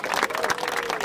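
A battle rap crowd at a Brazilian freestyle event claps and cheers loudly as a vote, a dense burst of applause and shouting for just over a second.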